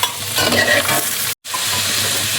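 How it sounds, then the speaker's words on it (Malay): Loud, steady sizzling and crackling of chopped garlic frying in a hot wok, with a brief dropout partway through before the frying hiss resumes. "Bawang putih yang dah siap cincang, aku masukkan je dalam kuali."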